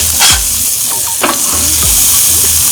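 Smash burgers sizzling loudly on a Blackstone griddle just after flipping, a dense continuous hiss with scattered spatula scrapes and pops, very close, with no talking.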